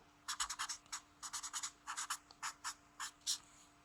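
Someone writing down a maths rule: a quiet, close series of short scratchy strokes in uneven clusters against a faint steady hum, with no talking.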